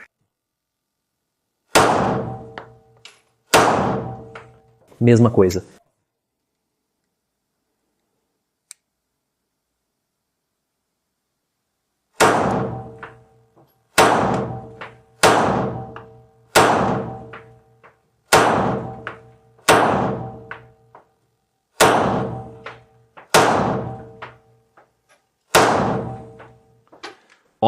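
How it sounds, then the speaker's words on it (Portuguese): Beretta 92S pistol dry-fired in double action, its hammer dropping in a series of sharp, loud metallic snaps, three quick ones then a pause and about nine more at a steady rhythm, close up, with a brief spoken remark. "de novo abatemos o cão, removemos o seguro e tentamos o disparo novamente"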